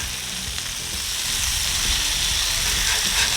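Bacon smash burgers sizzle steadily on a hot griddle while a spatula presses and scrapes them, a continuous close frying hiss with faint scraping underneath and no talking.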